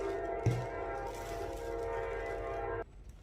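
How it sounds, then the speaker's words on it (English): Short train passing by: a steady rumble of rail cars with a sustained horn tone, close and loud, cutting off suddenly near the end. "Okay, that was a short train."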